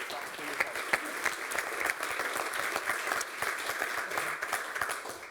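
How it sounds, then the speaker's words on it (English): An audience applauds a panel at the close of a renewable-gases industry session at a European sustainable energy conference, with steady, moderately distant clapping filling the room throughout without a pause. "let me ask you to join me in an applause for such an amazing panel"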